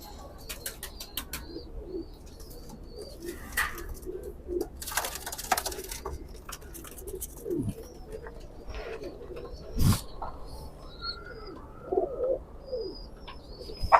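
A pigeon coos in low soft bursts, mixed with chirps, brief wing flutters and scattered bird calls nearby in a quiet setting.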